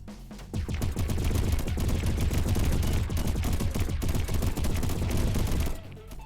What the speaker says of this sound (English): But lots of laser cannons